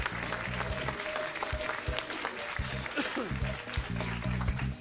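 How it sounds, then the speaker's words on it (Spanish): Audience applause rings out for the orange team on a game show, steady clapping throughout with a host's voice over it. "Aplausos para el equipo naranja."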